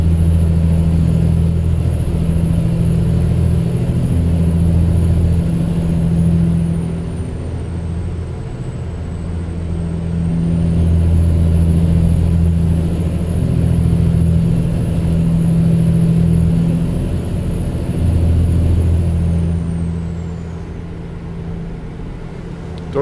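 A truck engine drones steadily in the driving game American Truck Simulator, a loud low hum that swells and eases with throttle over about twenty seconds, joined by a thin high whine, with no talk.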